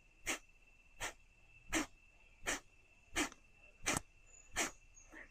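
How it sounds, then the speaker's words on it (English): Seven forceful, evenly spaced breath exhalations pushed out from the abdomen in a steady rhythm about once every 0.7 seconds, close and breathy with no talking. "and we make a sound of a breath out."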